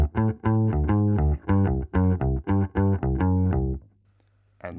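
Clean Aria Pro II bass guitar tone, a quick riff of about a dozen punchy, warm low notes played close and alone, followed by a brief low sustain and silence.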